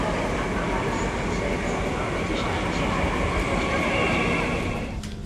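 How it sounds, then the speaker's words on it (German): A regional train pulls into a German station, a steady loud rumble of rail and carriage noise running throughout, easing slightly at the end, with people talking faintly underneath. "da kommt unser Zug schon"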